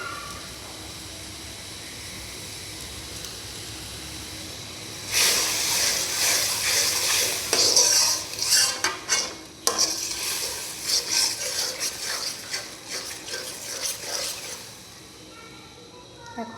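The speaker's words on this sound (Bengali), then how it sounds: "এখন ভালো মতো মশলাটা কষাতে হবে।" Spice masala with coriander powder and salt being stirred and fried in a pan, a quiet start giving way to busy scraping and sizzling strokes that rise and fall, close by.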